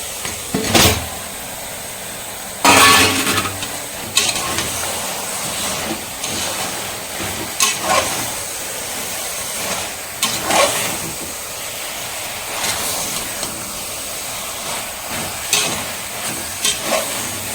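Marinated chicken stirred into a tomato and onion masala for basmati biryani, a continuous sizzle broken by repeated loud scrapes and clatters of the spoon against the pan.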